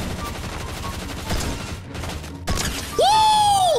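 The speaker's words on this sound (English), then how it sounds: "I got Peter Griffin's gun." Rapid bursts of gunfire from Peter Griffin's gun in the Fortnite video game, dense crackling volleys over several seconds, ending in a rising and falling electronic whine.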